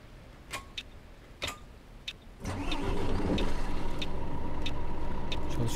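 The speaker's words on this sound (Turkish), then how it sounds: "Bir çalıştıralım aracımızı." A city bus engine starting in a bus driving game set in Warsaw, a few ticking clicks, then the engine cranks and settles into a steady mid-pitched idle rumble, close and without talk.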